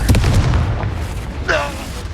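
A Confringo spell explosion in the video game Hogwarts Legacy, a deep booming blast with a rumbling low end and a brief crackling burst following, set amid game sounds.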